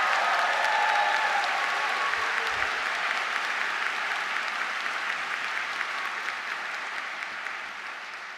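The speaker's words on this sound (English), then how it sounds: "Let's give them a round of applause." Sustained applause from a graduation crowd at a Seattle University School of Law spring commencement, dense and loud at first and slowly fading, with no speech over it.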